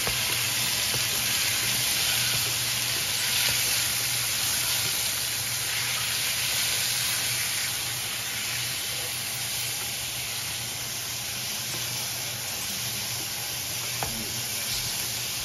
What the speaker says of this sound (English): I'm gonna be adding my chicken breast julienne to the pan. Oh boy, listen to that sizzle.